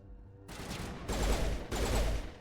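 Enemy gunfire in the video game Mass Effect: a loud, dense rattle of shots starting abruptly, then two heavier sustained bursts, close and continuous with no talk over it.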